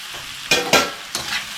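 Shrimp stirred in a pan of butter and garlic, giving three short sizzling scrapes close by with a soft frying hiss between them.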